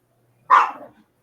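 A single sharp dog bark indoors, close and loud, then quick silence.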